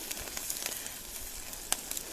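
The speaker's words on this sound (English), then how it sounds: "You can hear every time the snow hits the grill sizzling, as well as the food." Food and falling snow sizzle on a camp grill outdoors, giving a faint, steady crackling hiss broken by scattered sharp pops, with one louder snap near the end.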